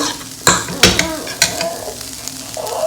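Corned beef in a little oil in a pan gives a close, steady sizzle, broken by a few sharp scraping knocks of a utensil stirring it.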